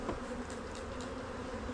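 Honey bees buzz steadily and close up around a hive frame where they are capping honey, a dense continuous drone filling the whole stretch without any talk.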